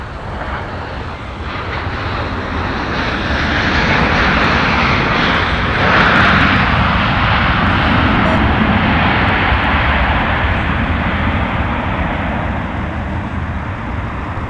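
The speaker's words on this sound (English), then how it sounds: "So here's our Southwest flight." A Southwest airliner's jet engines roar steadily at Minneapolis–St. Paul airport in winter, a broad continuous rumble that swells slightly and holds loud and close throughout, with no talk.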